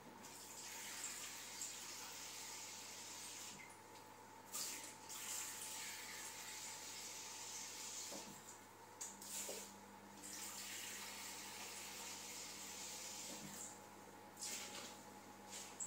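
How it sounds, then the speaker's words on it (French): Tap water running from a kitchen sink faucet into a container, a faint, steady hiss with a few soft clunks and small shifts, distant and quiet throughout. "là il suffit juste que je rajoute 300 ml d'eau. Donc là je vais aller près de mon évier."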